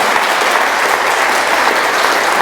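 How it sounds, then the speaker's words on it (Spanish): A church congregation applauds during a Sunday morning service, a dense, steady wash of clapping that holds at an even, loud level throughout without a break. "Dale un aplauso al Señor en esta mañana."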